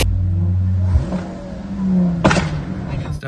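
A Suzuki-style sports car on the ST225 fitted with an IMAP engine-management setup revs with a droning engine note, then a sharp, close pop bursts from it near the end.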